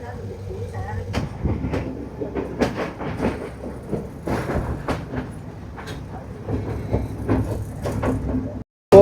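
Sri Lankan hill train pulling away through tea country, heavy clanking and rhythmic wheel clatter with sharp metallic knocks, near and loud, a brief drop to near silence just before the end.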